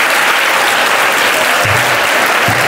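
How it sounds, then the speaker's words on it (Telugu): Steady, loud applause from a school audience at a National Science Day celebration, dense clapping filling the whole moment with no break. "మీరందరూ నమ్మితే గట్టిగా చప్పట్లు కొట్టండి"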